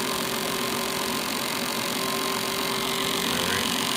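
A homemade motor generator runs at speed, giving a steady, loud, even mechanical hum and whir with a constant tone and no change in pace, with no voices.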